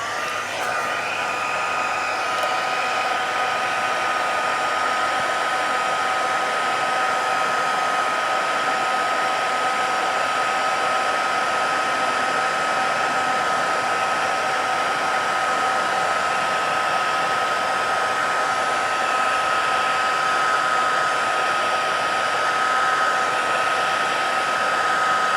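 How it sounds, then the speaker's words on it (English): A craft heat gun blows continuously at close range, softening the plastic fuel tank of a Briggs & Stratton Pulsa-Jet 4HP/5HP engine. Its steady, even airy whine with a thin tonal hum lasts the whole stretch, with no talk. "it's just a craft heat gun, but hopefully that will soften the plastic enough that we can slide it up to the mark we made"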